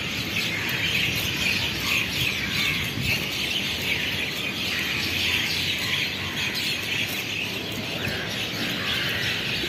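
Many birds chirping noisily at night, a dense continuous chorus of overlapping calls that stays loud and steady throughout, no speech.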